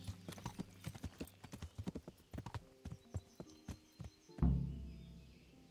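Horse hooves clop in a steady rhythm at a horse race in the video game Kingdom Come: Deliverance, ending in a heavy thud that fades out, with faint birdsong in the background.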